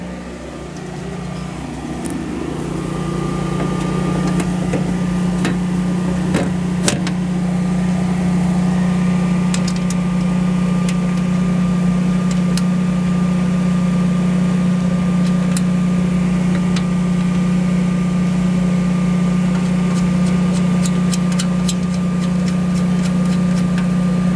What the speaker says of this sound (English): It wants to run, it runs bi-weekly, just to make sure everything is working on the generator.